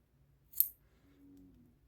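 One quick, crisp snip of sharp scissors trimming crochet tassel yarn, close and brief, in an otherwise quiet room.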